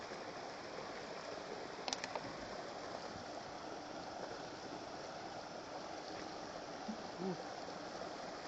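A mountain stream near Stripura cave in Uva Paranagama flows in a soft, steady rush of water, with a couple of brief faint knocks and gurgles over the constant wash.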